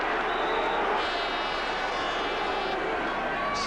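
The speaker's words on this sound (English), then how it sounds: "Still a bit of cheering following that decision" A stadium crowd at a 1998 Limerick versus Cork hurling match sends up a steady, dense wall of cheering and shouting. A commentator talks over it throughout.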